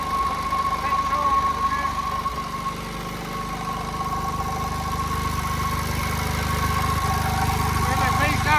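A JAP 55 engine running on TVO drives an ex-army generator, idling in a steady, even hum close by with a faint mechanical knock, and a voice talks over it.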